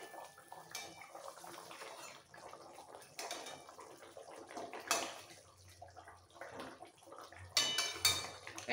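Fried katla fish slipped into boiling gravy in a pan: quiet bubbling and soft splashes with occasional utensil clinks, a few louder splashy bursts, no voices.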